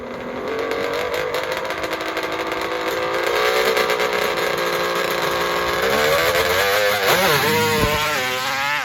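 Triple Banshee three-cylinder two-stroke motorcycle on a dirt drag strip, its engine screaming loud and close in a steady high-pitched wail that climbs and then surges through rapid revs near the end of the run.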